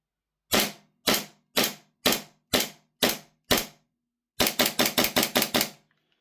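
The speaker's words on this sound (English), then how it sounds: "Let's test the blowback action and how the trigger feels." An RWA Nighthawk Custom Sandhawk gas blowback airsoft pistol, charged with propane, fires seven evenly spaced sharp snapping shots, then after a short pause a rapid burst of about eight more, all close and crisp.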